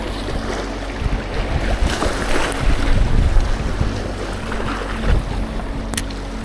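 Strong wind blasting the microphone on a Lanzarote shore during lure fishing, a continuous rumbling buffet with surging gusts and a background wash of sea, loud and steady with no talking.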